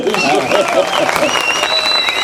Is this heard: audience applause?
yes